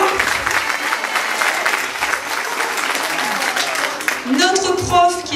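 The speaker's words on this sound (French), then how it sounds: "qu'on applaudit bien fort" Continuous loud applause fills a room after a Christmas tale show as a performer is acknowledged, with cheering voices and a speaker talking over the clapping toward the end.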